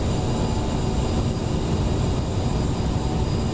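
Steady, loud engine roar from a CRJ-900 jet airliner in a flight simulator game, with a broad rumbling hiss, continuous and unchanging throughout, no voices.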